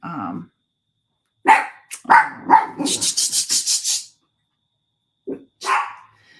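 A dog barks loudly and close by, first a few single yelps, then a quick run of sharp barks, followed by quiet gaps and two more short barks.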